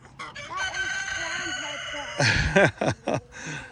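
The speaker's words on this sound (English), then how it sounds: "Little man there loves playing with the chicken." A rooster crows in a farmyard chicken pen, one long drawn-out call followed by a few sharp clucks and squawks close by, with faint background voices.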